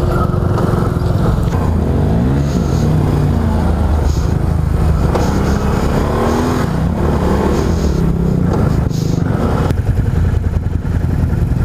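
A Can-Am Renegade 1000 ATV engine revs loud and close on a test ride, its pitch sweeping up and down in repeated throttle bursts over a steady rough roar.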